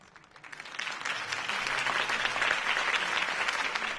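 A crowd at a Harvey Dent campaign rally bursts into applause after his speech, the clapping swelling quickly within the first half second into a dense, loud, sustained roar of many hands.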